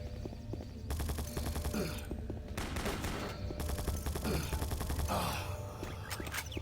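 Rapid, sustained automatic turret fire in the video game Doom 3, loud and continuous bursts with brief shifts in intensity across the whole stretch.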